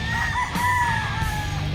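Chickens call near the microphone: a drawn-out rooster-like cry rising and falling over a background hum, close and moderately loud.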